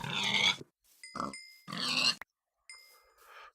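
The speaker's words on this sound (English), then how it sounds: "there's so many pigs about" Pigs in the Minecraft Magic Farm modpack give several short grunts and oinks, separated by brief silences, close and clear with no talk.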